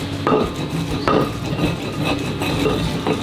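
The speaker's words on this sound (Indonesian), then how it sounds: "Kita ulek." Chili being ground for sambal in a stone ulekan mortar, curly chilies and bird's eye chilies lightly sautéed with salt, a steady close grinding and rubbing with periodic heavier knocks of the pestle, no voices.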